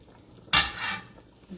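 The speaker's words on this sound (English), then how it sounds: "Give it a little stir." Meat being stirred in a cooking pot for lasagna soup: one sharp, close metallic clank of utensil on pot, followed by a short scraping swirl that fades.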